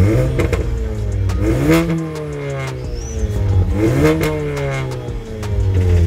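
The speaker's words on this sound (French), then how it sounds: "Akrapovic en full tube avec clapet. Mais je vous jure que sur la vidéo elle hurle à la mort vraiment." A VW Golf 7 GTI with an Akrapovic full valved exhaust revs repeatedly, close and loud, its engine note rising and falling in sweeping bursts with crackly edges between pulls.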